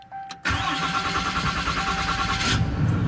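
A Ram 3500 pickup with a Cummins 6.7 HO diesel cranks briefly after a fuel filter replacement and fires up, settling into a steady, loud, close diesel idle.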